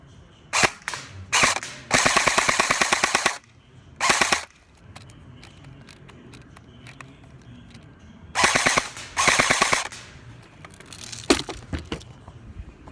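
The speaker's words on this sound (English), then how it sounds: "we're going to go ahead and we're going to shoot this target" Bursts of rapid gunfire from a CQB airsoft-style gun shot at a target on a range, several loud automatic strings of sharp cracks separated by quieter gaps with faint mechanical clicks.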